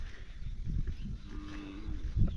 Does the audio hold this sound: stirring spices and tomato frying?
no